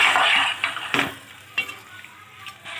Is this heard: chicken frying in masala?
yes